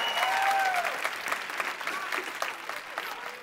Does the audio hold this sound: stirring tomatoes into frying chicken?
no